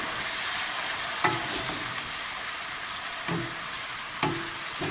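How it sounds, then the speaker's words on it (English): Marsala wine stirred into mushrooms sizzling in a pan for a vegan chick-n Marsala, a steady broad frying hiss broken by three or four brief scraping stirs of the spoon. "So I'm going to add the marsala now, and I'm just simply going to stir that in."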